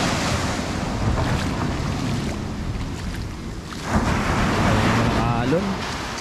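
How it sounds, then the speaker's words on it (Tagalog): Ocean surf rolls continuously onto a shore with wind buffeting the microphone, a steady loud wash that swells again partway through, and a person's voice is briefly heard over it. "Alon."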